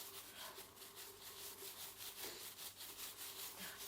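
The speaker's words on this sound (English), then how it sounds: "with my hand I'm going to rub in this direction for a minute" A hand rubs wet, soapy felt back and forth in one direction, a soft rhythmic scrubbing with a steady pulse, faint and close, no voices.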